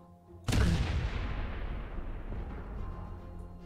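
A single heavy cannon blast goes off in a ragdoll physics video game, a sharp loud boom followed by a long rumbling decay that fades over several seconds, with no talking.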